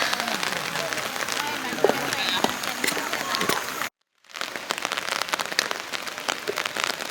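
Steady rain falls at Borobudur temple, a dense close patter of drops on surfaces that cuts out briefly midway and then resumes just as heavily.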